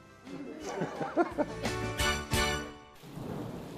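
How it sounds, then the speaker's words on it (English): A storm passes over a Texas ranch at night, with rolling thunder and rain as bursts of broadband noise rise and fade, some talk faintly underneath. "hopefully the storm would pass"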